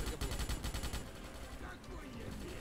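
Rapid automatic gunfire from a Starship Troopers video game, a fast even stream of shots firing against bugs for about a second before fading into steady background game noise.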